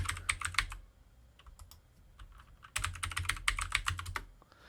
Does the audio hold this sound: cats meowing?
no